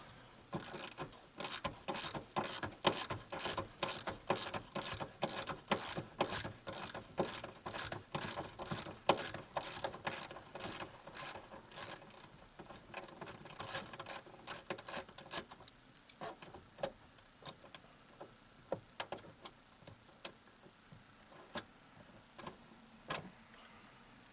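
Ratchet wrench with a 14 mm socket loosening a rear deck speaker bolt in a 2013 Ford Mustang, a close run of rapid, even clicking that slows into sparser, quieter ratchet clicks.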